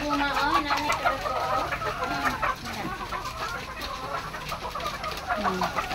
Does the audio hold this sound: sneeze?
no